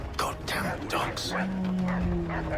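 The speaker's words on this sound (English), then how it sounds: "Goddamn dogs." Dogs bark and yip repeatedly in Assassin's Creed 3, quick close bursts over a busy game soundscape with a low droning tone rising midway.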